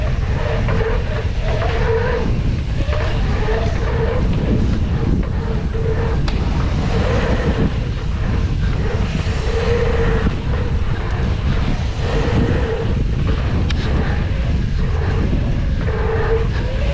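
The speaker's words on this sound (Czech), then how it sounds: "Bojovat s větrem." Strong wind buffeting the microphone at a large pump track in Slovakia, a loud constant rumble and roar with gusty fluctuations throughout, no speech.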